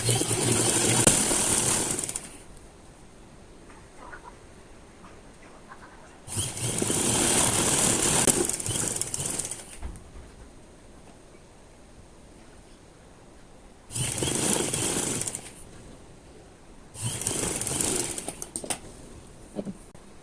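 A sewing machine stitches the side seam of a kameez with thin piping set close to the edge, running in four separate bursts of steady whirring separated by quiet pauses, close and fairly loud.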